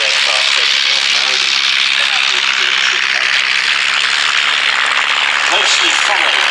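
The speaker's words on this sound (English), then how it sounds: "the front cockpit of that yellow aircraft taking off now" A yellow training aircraft takes off at the Old Warden airshow, its engine drone loud and sustained across the whole stretch while a commentator talks over it.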